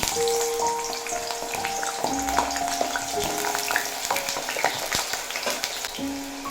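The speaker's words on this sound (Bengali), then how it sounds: "তেল ভালো মতো গরম হয়ে গেছে দিয়ে দেব আলু" Potatoes fry steadily in hot mustard oil, giving a close, continuous sizzle with crackles and spatters throughout and no talking.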